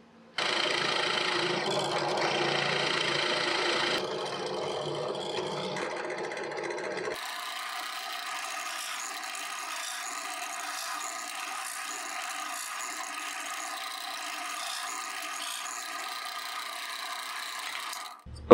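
A drill press bores holes in a steel channel, first a dense grinding whir, then a thinner, steady mechanical whine with metallic overtones that runs on alone.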